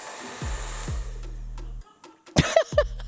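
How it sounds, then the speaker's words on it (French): A hair dryer blowing a ping-pong ball switches on with a loud steady whir, cuts out and kicks on again several times, with brief sharp clicks and knocks between bursts. "J'ai pris mon sèche-cheveux avec une balle de ping-pong et attention, je vais allumer mon sèche-cheveux"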